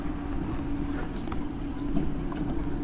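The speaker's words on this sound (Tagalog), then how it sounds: "Malakas ang hangin." Strong wind blows steadily at a windmill viewing deck in Pililla, Rizal, a continuous loud rumbling buffet against the microphone with no voices.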